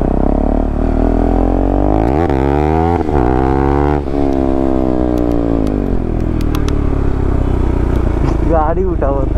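Hot motorcycle engine running after a burnout, a loud rough idle with revs rising and falling in a few swells, close by, with a voice speaking over it.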